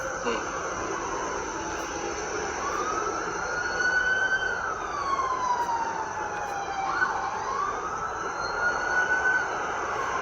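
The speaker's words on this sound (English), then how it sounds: "Listen to them sirens outside." Wailing emergency vehicle sirens rise and fall continuously on Chicago streets at night, with several overlapping, over a constant roar of traffic noise outdoors.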